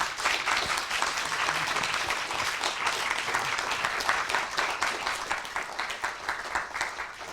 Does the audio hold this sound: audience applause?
yes